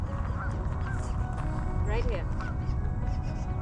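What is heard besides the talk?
banded goose honking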